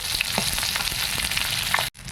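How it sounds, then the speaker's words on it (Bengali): Fish fries in a pan with a dense, even sizzle and a few soft pops, heard close up for about two seconds before a sudden cut. "মাছগুলো ছিল ভালো করে একটু ভেজে নেই"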